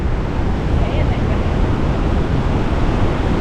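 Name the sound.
river and Tumalo Falls waterfall, Bend Oregon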